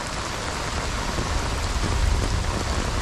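Heavy rain pours down steadily in a Florida yard during a storm, a dense, loud, continuous hiss of drops on surfaces with no letup, with no voices.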